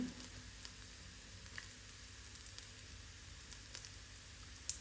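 Garlic dropped into browning onions in a frying pan, giving a steady soft sizzle with faint crackles and occasional pops, no talking.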